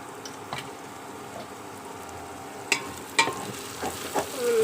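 A spoon stirs vegetable pulao in a pan over a low, steady sizzle, with a few sharp scrapes and clinks against the metal rising above it.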